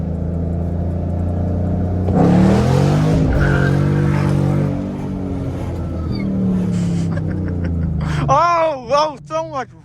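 A straight-piped 2013 Mustang GT accelerates hard in first gear, its engine rising into a loud, raspy roar heard from inside the car. The note drops after the pull, followed by tire and brake noise as the car slows, with voices in the cabin talking.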